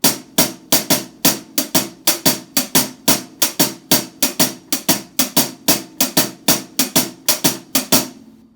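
Drum kit hi-hat played alone in a syncopated 4/4 pattern, crisp bright strokes with accents repeating steadily through the bar at an even, moderately loud level.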